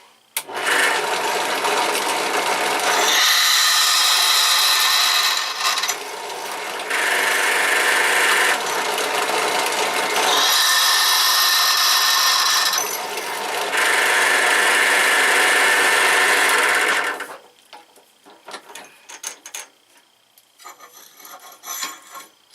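A loud, steady mechanical whir of a drill press drilling with an 11/64 bit runs in long sustained bursts with brief pauses between, then drops to quieter clatter and handling noises at the end.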